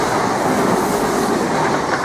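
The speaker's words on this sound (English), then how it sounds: "I've got a turbostar unit now, en route to Peterborough, about to pass through" Loud, continuous roar of a Turbostar diesel multiple unit train rushing past close by through Needham Market station, a dense rumbling wash with no voices.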